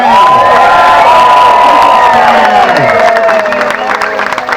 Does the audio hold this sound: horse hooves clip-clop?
no